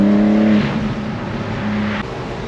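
A 2023 BMW M4 Competition G83 Cabriolet engine hums loudly up close with a smooth, steady tone that dips slightly midway, sounding like cruising or a light rev.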